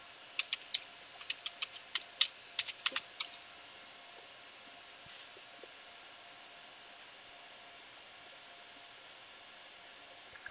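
Soft, close keyboard taps come in a quick run over the first few seconds as a command is typed into a Linux Mint terminal. Then only a faint steady hiss remains.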